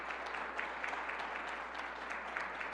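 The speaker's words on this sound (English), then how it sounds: "So let's give them a round of applause for what they do." Audience applause at a school event celebrating reading achievement, a steady, moderately distant wash of many hands clapping at even level throughout, with no voices over it.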